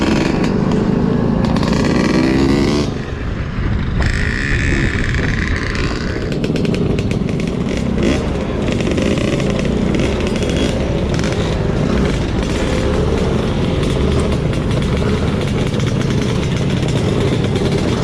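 A 2023 Vespa GTS 300 SuperSport scooter engine drones loud and steady while riding on the road, with a brief dip near the start and wind rush over a continuous mid-pitched hum.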